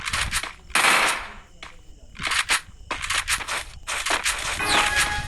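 Bursts of MP5 submachine gun fire from the Free Fire mobile game crackle in rapid, uneven volleys that overlap with other in-game gunfire.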